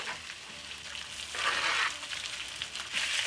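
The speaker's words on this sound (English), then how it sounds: "Straight away add the beef." Beef hitting a hot wok in a beef and broccoli stir-fry, a steady close hiss of frying that swells louder midway and keeps sizzling throughout.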